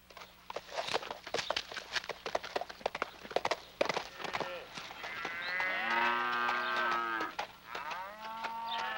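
Cattle moo loudly on a ranch, with long drawn-out lowing calls following scattered hoof clops and thumps of livestock moving nearby, no voices.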